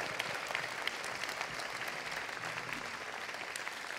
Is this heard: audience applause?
yes